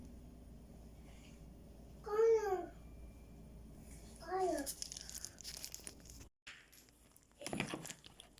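A baby babbles in a home kitchen during cooking, two short bursts of cooing vocal sounds a couple of seconds apart, fairly close, with soft handling noises and quiet adult talk around them.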